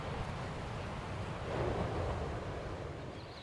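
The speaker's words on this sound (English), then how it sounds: "in the winter when we visited, heavy surf" Heavy winter surf breaking on a long beach on Molokai, Hawaii, a steady broad roar of waves with wind, surging slightly midway and continuing without voices.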